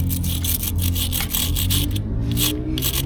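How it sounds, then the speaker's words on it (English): Rust is scrubbed off metal parts of a VW trike in quick, rhythmic back-and-forth rasping strokes, about a dozen in a few seconds, loud and close with brief pauses. "just trying to get some of this rust off"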